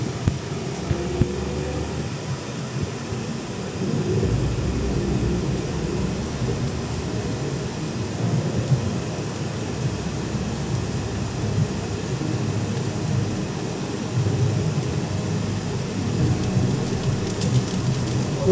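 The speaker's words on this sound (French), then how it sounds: "là, on va avoir un bon coup de tonnerre, je pense" Thunder rumbles low and steady through an evening thunderstorm in Vendée, France, with rain pattering throughout and the deep roll swelling in the middle of the stretch, with no voices heard.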